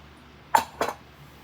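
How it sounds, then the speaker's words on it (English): Fork clinking against a bowl while mixing sugar and baking powder into flour for strawberry shortcake batter, two quick bright clinks close by with no talk. "And you're going to mix this really well. I use a fork."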